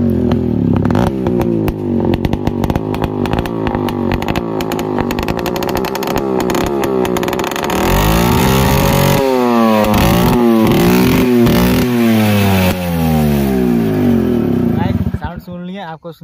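A TVS Max100 motorcycle fitted with a modified loud silencer starts and revs close to the mic, its harsh, blatting exhaust rising and falling in pitch through several sharp throttle blips before cutting off at the end.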